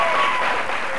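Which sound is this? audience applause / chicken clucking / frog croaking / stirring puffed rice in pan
audience applause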